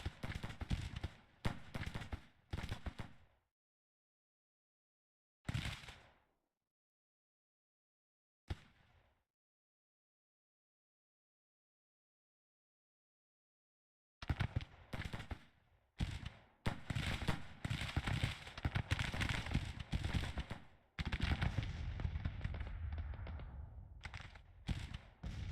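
Artillery and gunfire in Grand Tactician, a Civil War-era battle: clusters of booms and crackling volleys, then a long silence broken by two isolated blasts, then a sustained heavy barrage of rapid, overlapping shots and deep thumps.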